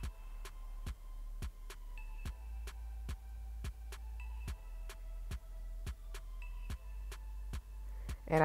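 A home sewing machine stitches a dress seam with a 1 centimeter seam allowance, giving a steady run of sharp, evenly spaced clicking needle strokes with a faint motor hum beneath, close and fairly quiet, with no talking.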